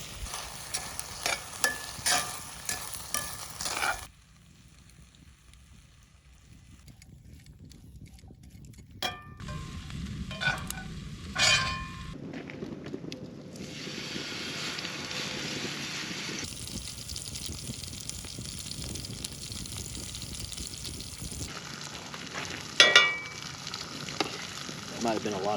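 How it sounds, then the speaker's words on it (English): Rice, vegetables and sauce sizzle and fry in a pan in a camper, with stirring scrapes and clatter breaking up the steady close sizzle, a quiet pause partway, and no talking. "The rice mixed in there with the veggies, and now I got the sauce in there, and we're just gonna cook it for about a minute."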